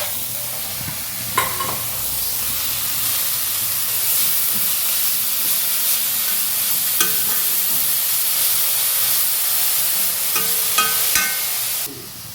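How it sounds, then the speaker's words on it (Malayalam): Chopped ponnankanni spinach stir-frying in a hot pan, a continuous loud sizzle and hiss with occasional spatula clinks and scrapes, close and alone. "ഇതിലേക്ക് അരിഞ്ഞ് വെച്ച പൊന്നാരി വീരൻ ചീര ഇടുക."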